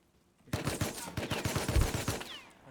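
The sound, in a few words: gunfire in a video game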